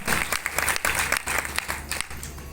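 A crowd claps at a meeting honoring a mother figure, steady dense applause with rhythmic bursts of strong hand claps, loud and close, with no talk.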